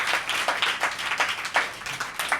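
Applause from an audience at a Hindi poetry show, a fairly faint, scattered clapping with uneven bursts over a couple of seconds, no voices on top.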